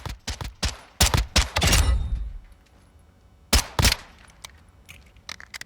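A 2011 pistol firing in Call of Duty Modern Warfare II, a rapid string of loud sharp shots, then a booming blast that fades out, followed after a pause by two more quick shots and some faint mechanical clicks.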